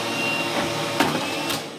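Electric dryer running in an old hotel room, a steady loud whirring blower drone that holds for under two seconds before cutting off, no voices.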